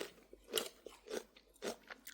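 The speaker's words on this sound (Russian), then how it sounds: "Слышно, как хрустит?" Lightly salted pickled cucumber and celery, cured four days and then chilled, crunch loudly and up close in several distinct bites and chews spaced roughly half a second apart, with no talking.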